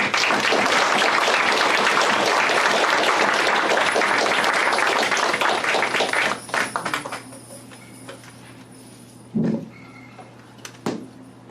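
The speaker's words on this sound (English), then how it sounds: "Let's give her a round of applause for Pam" Audience applause for a performer at a Hmong community gathering, a dense, steady clapping crowd for about six seconds that then thins out to a few scattered claps and soft room noise.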